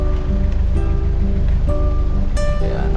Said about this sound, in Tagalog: bumubuhos ang ulan.